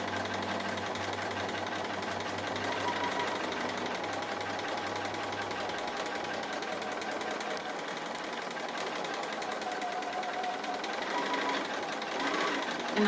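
A sewing machine stitches along the raw edges of a tree appliqué on a quilt, a steady fast mechanical whir at low level that continues throughout, with a faint voice in places.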